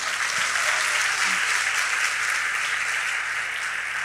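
A large church congregation applauds steadily and loudly throughout, a dense wash of clapping with no pauses.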